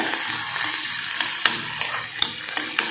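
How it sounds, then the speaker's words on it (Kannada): Onion, tomato and curry leaves frying in a pan, a dense continuous sizzle broken by several sharp scrapes and knocks of a spoon stirring against the metal. "ಈಗ ಈರುಳ್ಳಿ ಟೊಮೆಟೊ ಮತ್ತು ಕರಿಬೇವು ಮೂರೂ ಹಾಕ್ಕೊಂಡು ಕರೆಟ್ಕೊಳತ್ತೀನಿ"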